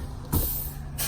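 A dead bus being towed as a truck gives two short bursts of air hiss as its air brakes release, each broadband and fairly loud against a quiet low engine rumble.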